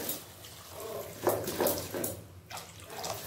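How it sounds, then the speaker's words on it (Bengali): Water poured into a fried mustard and poppy seed paste in a pan for a pabda fish curry, a brief soft splashing pour that swells and fades over a few seconds, close and fairly quiet. "এরপর জল দিয়ে দেব।"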